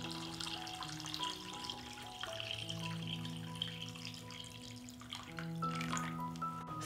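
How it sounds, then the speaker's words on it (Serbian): Water is poured into a cooking pot lined with a cloth and holding glass jars for pasteurizing, a faint steady splashing stream heard beneath background music. "Sipam vodu u šerpu do visine poklopca."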